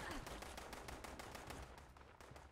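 Rifle gunfire from the video game Fallout 76, a rapid run of sharp broadband shots repeating steadily through the whole stretch, loud and close over a dense game soundscape.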